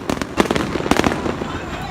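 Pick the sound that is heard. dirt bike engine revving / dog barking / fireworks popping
fireworks popping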